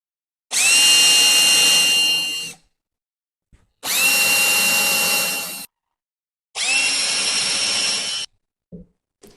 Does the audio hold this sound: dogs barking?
no